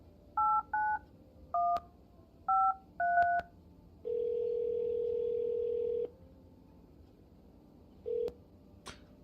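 A telephone keypad beeps out a string of short dual-tone presses in quick groups, followed by a steady two-second tone, then one more brief beep near the end; no one speaks.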